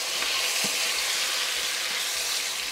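Fish sautéing in a pan for fish broth, a steady, close hiss of frying oil with faint stirring bumps, no voices.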